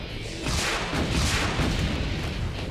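Rocket explosions in Brutal Doom, heavy continuous booming blasts rolling into one another, loud and dense for the whole stretch.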